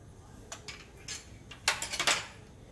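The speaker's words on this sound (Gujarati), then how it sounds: "હવે સૂકા મસાલા પણ મીઠું જે રીતે મિક્સ કર્યું એ રીતે જ મિક્સ કરી દેવાના." A spoon stirs red chilli powder, coriander-cumin powder, turmeric and salt into sliced onions in a bowl for Surti onion pakoda batter, giving faint scattered clinks and scrapes that bunch together toward the end.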